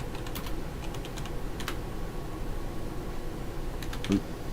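A computer keyboard being mashed to type a name, short clustered bursts of rapid key clacks separated by pauses, over a steady low fan hum.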